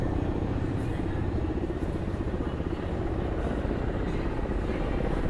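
A helicopter on its landing approach at a flying event, a steady broadband rotor and engine roar holding at a constant level throughout, with faint voices underneath.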